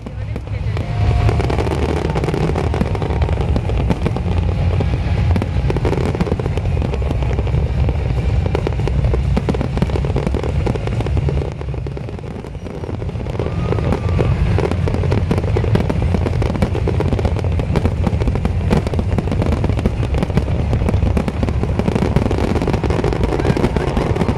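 Fireworks show over the Abu Dhabi Corniche for UAE National Day, a continuous loud roar of bursts and crackle with a brief lull midway, set against crowd noise and voices.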